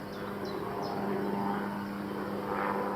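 Steady droning engine of a helicopter passing at a distance over outdoor riverside background noise, with no talking.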